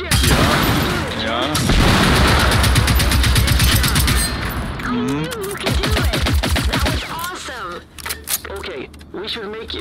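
Heavy gunfire aimed at a machine in the game Generation Zero, rapid loud bursts dominating the first half, then sparser shots and blasts as someone talks over them.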